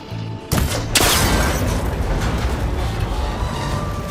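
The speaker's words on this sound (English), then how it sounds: "It should break if I shoot it." A loud gunshot strikes a cable connector in Horizon Forbidden West, a sharp crack with a second burst about half a second later, then a long rumbling, crackling tail.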